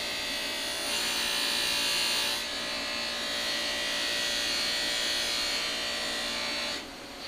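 Trim on a 1966 Ford Galaxie 500 convertible being polished with coarse rubbing compound on a buzzing electric polisher, a steady close whine that briefly rises in pitch, then drops off near the end.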